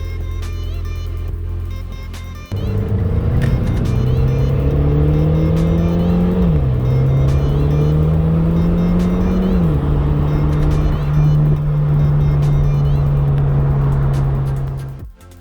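A 2010 Mitsubishi Evo X MR driving on the road, its engine droning loudly and steadily. The pitch climbs and dips through a couple of shifts, then holds a steady cruising tone until it cuts off at the end.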